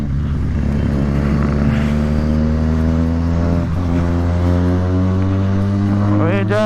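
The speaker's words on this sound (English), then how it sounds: "We're just ripping the throttle." Motorcycle ridden on a road with a pillion aboard, its engine droning steadily with layered harmonics and a brief rev rise near the end, close and continuous.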